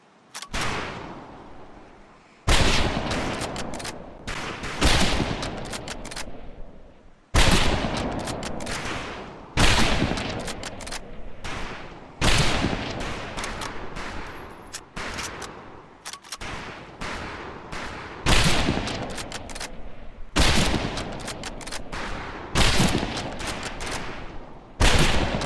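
Rifle fire at practice targets in the World War II shooter Medal of Honor Pacific Assault, bursts of many rapid overlapping shots repeating every few seconds, loud and close with brief pauses between volleys and no talk.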